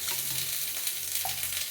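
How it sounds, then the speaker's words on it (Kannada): Simple tempering (oggarane) spatters in hot oil in a home kitchen, a close, bright crackle and sizzle with a low stove hum beneath and a quick stirring clink. "ಈ ಥರ ಶಬ್ದ ಬರಬೇಕು ಒಗ್ಗರಣೆ ಮಾಡಿಕೊಂಡಾಗ"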